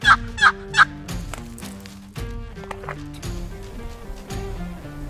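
Three loud gobbles from a wild turkey ring out at the start, followed by low rustling and footsteps nearby.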